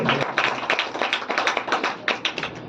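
An audience at a Bhagavat Katha recitation at Pashupatinath Temple in Nepal claps steadily, with dense, fairly close hand claps in irregular bursts that last about three seconds.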